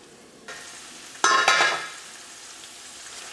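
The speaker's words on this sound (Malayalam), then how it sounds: "ഇപ്പോൾ ചിക്കൻ്റെ 2 സൈഡും പതുക്കൊന്ന് മുരിഞ്ഞിട്ടുണ്ട്." Chicken masala frying in a pan, a soft sizzle that swells into a loud burst of crackling as the lid comes off or the pieces are turned, then settles back to a gentle fry.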